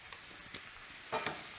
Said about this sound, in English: I'm going to turn the heat back on and we're going to just stir this up a little bit as it goes to get a little bit more doneness on the steak